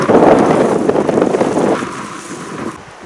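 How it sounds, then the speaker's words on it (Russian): A strong, cold north wind blows over a taiga river, buffeting the microphone with a loud, gusty roar that eases slightly toward the end. "Ну, откровенно северный ветер. И не слабый."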